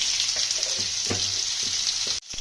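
Mango pieces hit hot oil seasoned with five-spice, dried red chilli and bay leaf, giving a strong close sizzle with stirring scrapes that cuts off abruptly near the end.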